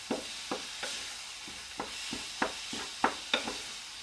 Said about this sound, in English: stirring up the banana